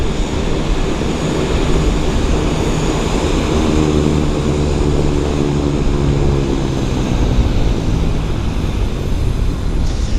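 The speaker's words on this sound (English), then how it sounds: "It's a 777-200 actually. And it's heading to Toronto. It's Air Canada Flight 34 to Toronto." An Air Canada Boeing 777-200 on Flight 34 to Toronto roars loudly and continuously at Vancouver airport, a broad steady jet engine rumble with a slowly shifting tonal whine.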